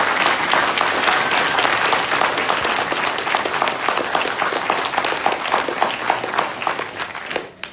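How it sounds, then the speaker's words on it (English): An audience at a military basic training graduation for Class 002-26 claps for the drill sergeants: loud, crowded applause with distinct sharp claps standing out, holding strong before fading in the final second. "Please join me in a round of applause for the drill sergeants of Class"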